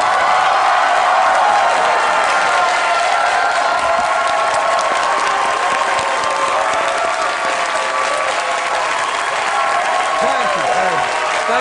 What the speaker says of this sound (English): Won't you please stand up and give Craig some well-deserved applause?